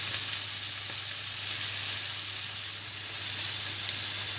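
Mushrooms frying in a pan for a creamy sauce, giving a continuous even sizzle with faint crackles, close and steady, with no talking.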